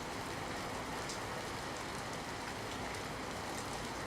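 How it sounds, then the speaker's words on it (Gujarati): Steady rain falls in Botad, a dense, even hiss of drops striking the ground and pavement. It stays constant and fairly faint at a distance, with no talking. "પવનના સુસવાટા અને કડાકા ભડાકા સાથે વરસાદ નોંધાયો છે"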